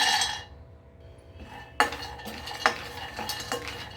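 Almonds dry-roasting over medium heat in a pan for a homemade protein drink mix, stirred with a metal spoon: faint rustling and scraping, then sharp clinks and scrapes of the spoon against the pan at intervals.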